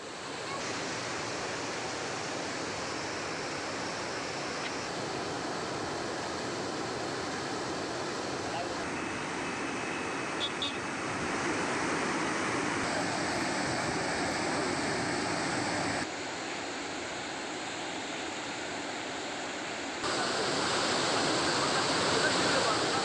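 Water released from the Mettur dam on the Kaveri river at 23,000 cubic feet per second roars as a continuous broadband rush, steady and enveloping, with slight level shifts and no clear voices.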